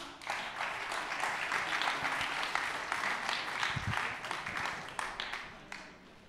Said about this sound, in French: je vous demande d'applaudir Philippe Burry